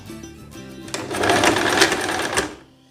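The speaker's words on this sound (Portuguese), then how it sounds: "Tô costurando no ponto de zigue-zague" A domestic sewing machine runs a zigzag stitch while a simple dress is sewn, its motor whirring in a fast rattling stream that builds to full speed, then slows and stops near the end.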